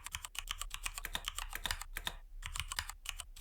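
Rapid, irregular clatter of computer keyboard keys being typed close up, a dense run of crisp clicks with a brief pause partway through, fairly quiet and with no voices.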